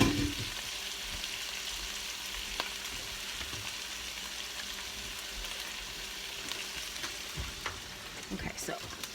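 Italian sausage sizzles in an open, uncovered pan, a steady broadband frying hiss with scattered pops and a few scrapes of stirring near the end, no voices.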